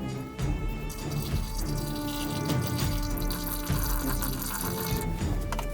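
Water being added to moisten a formicarium nest for Harpegnathos venator jumping ants, a steady running, splashing trickle like a tap filling, continuous and fairly close.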